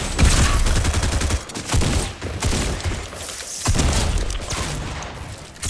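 Rapid bursts of video game gunfire crackle densely throughout, loud and near, with several brief pauses between volleys and no talk over them.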